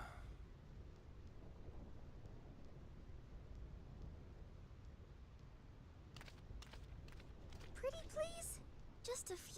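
Steady rain and low rumbling thunder during a storm in the video game Final Fantasy X, continuous throughout, with voices chattering over the storm in the latter part.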